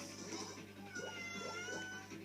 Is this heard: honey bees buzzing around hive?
no